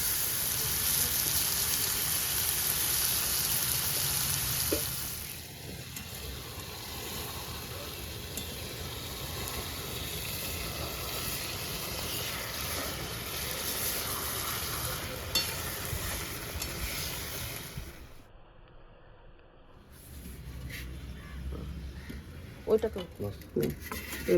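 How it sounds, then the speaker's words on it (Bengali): Food sizzles and fries in a pan over an outdoor wood fire, with steady crackling and occasional stirring scrapes and pan knocks. Nearby voices are heard now and then. "কাঠের জালে রান্না হবে চলো এখানেই করি রান্নাটা"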